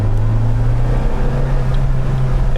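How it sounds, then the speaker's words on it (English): The turbocharged engine of a 1987 Dodge Daytona Shelby drones steadily from inside the moving car, a loud low hum with road and wind noise and no talking. "let's listen to the turbo"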